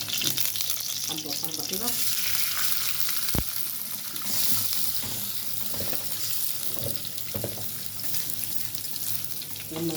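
A spoonful of ghee and a little oil sizzle in a pan for rice: a steady, close frying hiss with a brief metallic knock, while someone talks over it.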